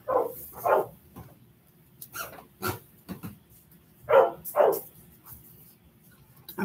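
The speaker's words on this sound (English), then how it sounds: "oh no, the dog." A dog barks several times in sharp pairs of loud, close yips and woofs, spaced by short pauses and ending with another burst, against a quiet indoor background.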